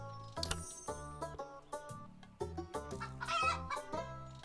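Giant chickens in a farming video game cluck and cackle in a busy run of repeated, pitched calls that is loud and continuous with no talk over it.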